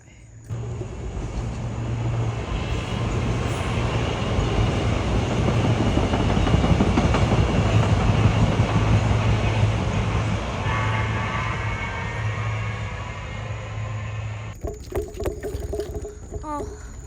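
A train rumbles past nearby at Langhorne train station, its wheels clattering steadily and loudly for several seconds before the noise cuts off abruptly.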